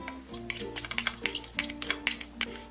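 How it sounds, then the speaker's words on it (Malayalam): Fenugreek seeds poured into a mixer grinder jar make a scattered rattle of small, bright clinks and pings, near and distinct, coming in uneven bursts over a low hum. "മിക്സിയുടെ ജാർ എടുത്തിട്ട് ഇതിലേക്ക് ഈ ഉലുവ ഇട്ട് കൊടുക്കാം"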